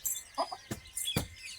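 Soft, quiet clucks and chirps from a hen with chicks, a few short calls spread across a moment, with some faint scuffing in between.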